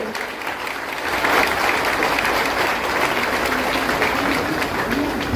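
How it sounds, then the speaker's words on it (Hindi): Large outdoor rally crowd in Poonch applauding Defence Minister Rajnath Singh, a loud, dense, sustained roar of clapping that swells after the first second and holds steady. "जोरदार तालियों से हमारे राजनाथ सिंह जी का स्वागत करिए।"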